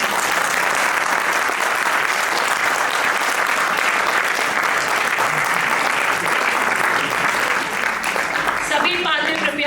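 A theatre audience gives loud, sustained applause after a stage performance of the play Chitrangada, dense clapping filling the whole stretch with crowd noise mixed in and a few voices rising near the end.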